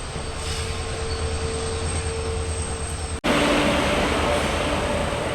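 Passenger train pulling into Mysuru Junction, a steady rumbling roar with a constant hum, broken by a short sharp cut midway and then continuing slightly brighter and louder.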